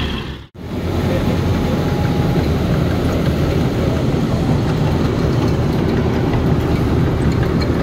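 A tractor engine drives a thresher during harvest, a loud continuous low rumble and mechanical roar that holds steady throughout, with one brief dropout near the start and faint voices under it.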